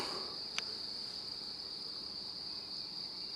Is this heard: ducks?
no